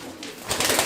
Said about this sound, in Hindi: कितने शानदार मद्रासी कबूतर हैं